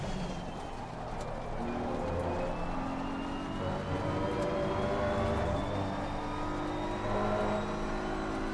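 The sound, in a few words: race car passing at Spa in a racing video game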